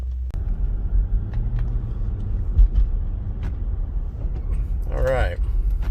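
A Toyota Land Cruiser truck with 160,000 miles, driven on the road, gives a continuous low engine and road rumble from inside the cabin, with a short burst of speech near the end.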